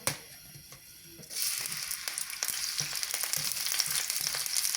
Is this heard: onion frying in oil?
yes